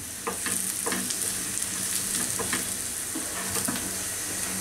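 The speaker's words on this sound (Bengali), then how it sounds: "এর মধ্যে জিরাটাও হয়ে যাবে, পুড়বে না পেঁয়াজটাও, আমার পছন্দ মতো ভাজা হয়ে যাবে" Chopped onions and cumin seeds fry in oil in a pan, giving a steady, close sizzle with bursts of crackling and occasional scrapes and clinks from stirring throughout.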